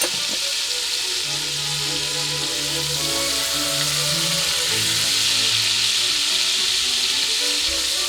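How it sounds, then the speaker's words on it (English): Olive oil and butter sizzle steadily in a cooking pot, giving a continuous close hiss and crackle with low hums in the background and no talking. "can you hear the sizzle?"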